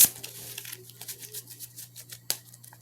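Tarot cards being shuffled make a quick run of soft, close riffling flicks and papery patters, rhythmic and faint, ending with a sharper snap, with no talking.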